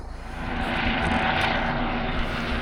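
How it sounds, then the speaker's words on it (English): A helicopter flies over a campsite at night, its engine and rotor droning loudly and steadily throughout without any talk. "there's the helicopter"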